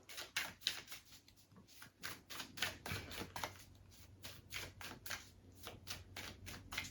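Rapid riffling of playing cards being shuffled, repeated in quick bursts with crisp flutters, close and moderately loud with no talking.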